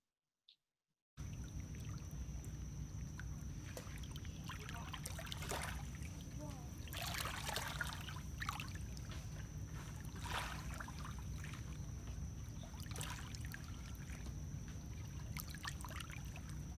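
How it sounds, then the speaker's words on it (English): River water flows and trickles steadily for the whole stretch, a constant close rush with brief splashing swells, after a second of near silence at the start. "I also heard a beautiful sound of the water moving"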